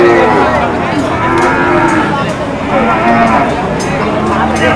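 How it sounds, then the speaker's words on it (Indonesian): Cattle at a busy livestock market, including PO and tegol breeds, moo loudly and repeatedly amid a crowded din, with people talking throughout. "Ini ada sapi-sapi tanggung, ada sapi PO, ada sapi tegol."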